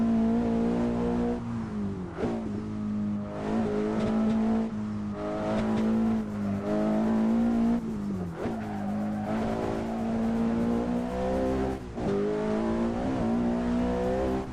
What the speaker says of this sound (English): No, man, this is a Honda Civic Type R.